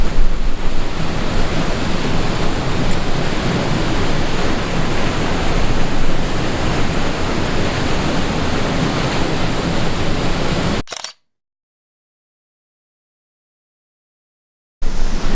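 Johnston Canyon waterfall in Banff National Park roars with a steady, loud broadband rush for about eleven seconds, then cuts to silence before the rushing water returns briefly.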